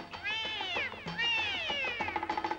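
A black cat meows twice in long, rising-then-falling cries, followed by a quick run of short pulses, close and clear over faint film-song music.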